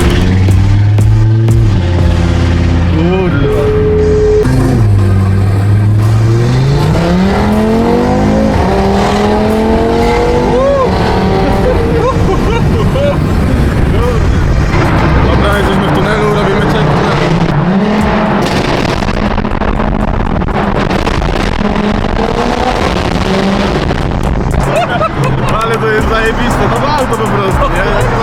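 An Audi engine revs and accelerates while driving in Dubai, its pitch rising and falling through the gears, loud and close beneath constant talking from the people inside.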